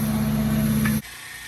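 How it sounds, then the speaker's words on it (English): A steady mechanical motor hum drones loudly, then cuts off abruptly partway through, leaving quieter background noise. "that sound you're hearing in the background, that's actually my pressure washer going out"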